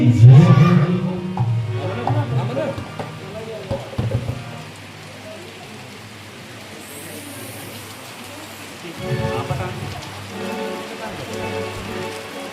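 Steady rain falls outdoors at a religious yagya gathering, a continuous hiss of drops on surfaces with a loud splashing burst at the start and another swell near the end, while voices speak over it.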